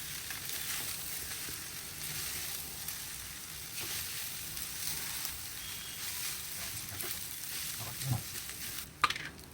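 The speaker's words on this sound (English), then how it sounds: "I stirred to change the color." Vegetable fried rice with soy sauce is stirred in a hot pan, giving a continuous close sizzle broken by repeated scraping and stirring strokes, with a louder clatter near the end.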